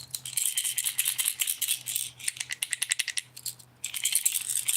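A rattle trap fishing lure shaken by hand, a bigger bait giving bursts of rapid clicking and rattling from internal beads, close and crisp, in several uneven rhythmic runs with short pauses.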